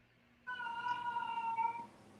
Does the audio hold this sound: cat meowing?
yes